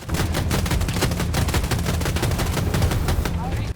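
Rapid 30mm cannon fire from a stealth helicopter pounding a tank in Battlefield 2042, a loud continuous burst of heavy automatic shots with explosive impacts, sustained at a steady rhythm throughout.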